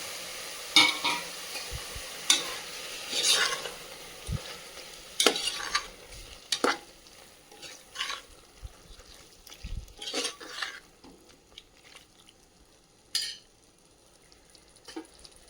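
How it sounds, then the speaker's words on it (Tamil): Onions sauté in a pan with a soft, steady sizzle while a spoon scrapes and clanks against the metal in irregular strokes, close by with no talking. "நல்லா இப்போ வெங்காயம் ஆனியன் நல்லா வதங்கி வந்துருச்சு"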